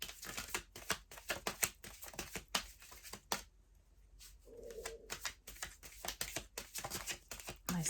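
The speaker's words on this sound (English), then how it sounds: "So we'll just give it another shuffle." A deck of angel oracle cards is shuffled by hand in quiet surroundings, giving rapid, close, repeated papery clicks in uneven bursts, with a short pause partway through.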